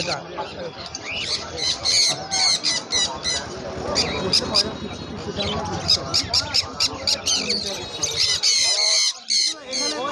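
Caged birds at a large bird market in Nadia district squawk and chirp loudly and repeatedly, in dense overlapping bursts, while people talk nearby.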